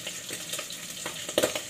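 Hot cooking oil sizzles and spatters in a pan, a soft crackling hiss with a few sharper pops near the end.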